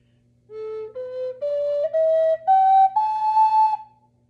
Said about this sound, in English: A simple scale sounds like this.